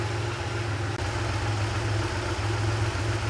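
A Porsche 911 with a 3.2-liter engine idles steadily and close by, a continuous low rumble with a slightly unsteady, bouncing idle and a brief dip partway through, with no voices.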